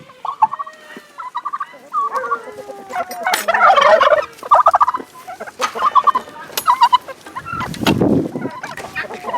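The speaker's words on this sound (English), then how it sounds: "And there's those darn turkeys right there." Wild turkeys gobbling and clucking close by outdoors, repeated loud rattling gobbles in bursts from several birds, with brief rustling in between.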